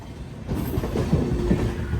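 Steady low rumble of an AC local train rolling along rails near Chennai, heard from inside the carriage, a continuous dense roar with no clear clickety-clack beats and no talk.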